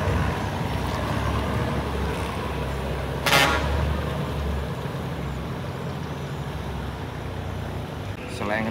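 A large barge of roughly 300–400 tonnes, driven by a giant propeller, rumbles through a salinity-control sluice gate, its low engine drone continuous and close with water churning beneath.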